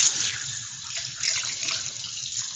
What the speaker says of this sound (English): So just give it a quick rinse.